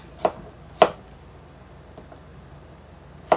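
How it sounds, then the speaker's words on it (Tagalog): A knife chops ginger on a cutting board for kusido, a fish sinigang in tomato. Three distinct sharp thuds come close and loud, with quiet pauses between them and a fainter tap near the middle. "Hiwa tayo ng luya."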